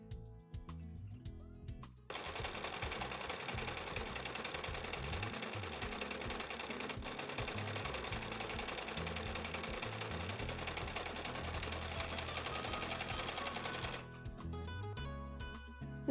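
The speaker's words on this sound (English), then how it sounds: "on the second side, we're going to sew it together" A sewing machine stitches together fabric scraps for a summer top, running in a loud, steady continuous whir for about twelve seconds before stopping, with quieter handling noises at the start and end.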